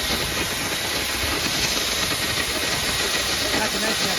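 Steam locomotive 765 gives off a loud, continuous hiss of escaping steam, broad and unbroken, filling the whole stretch at close range.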